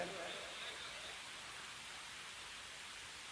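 Rain falls steadily as a soft, even hiss during an outdoor Islamic sermon, staying faint and unbroken throughout.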